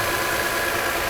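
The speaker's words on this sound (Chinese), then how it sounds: "来测试一下它的怠速的稳定" A Mercedes R129 300SL, a thirty-year-old car, idles with a steady, even hum and faint vibration, close and constant over a short stretch, with no voices.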